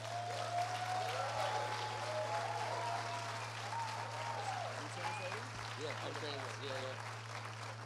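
Steady applause from a crowd fills the room, with a low electrical hum running underneath and a few faint voices mixed in.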